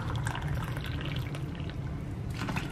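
Hot water, two cups, poured into a readymade kachori mix in a home kitchen, a steady close splashing and gurgling stream that runs unbroken the whole time.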